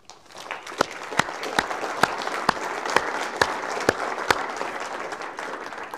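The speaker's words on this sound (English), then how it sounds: "join me in giving a round of applause this morning to our keynote speaker, Keith Ellison." An audience at a 2015 voting and elections summit applauds a keynote speaker: a moderate wash of clapping with sharp individual claps standing out at a steady pace, tapering off toward the end.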